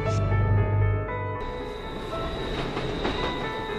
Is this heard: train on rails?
yes